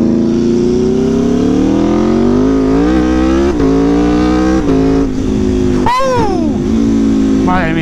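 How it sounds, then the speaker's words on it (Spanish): A motorcycle engine revs loudly and close while being ridden, its pitch climbing through repeated rises and drops as gears change, then sweeping sharply on a final rev. "Yo ya sé manejar una moto,"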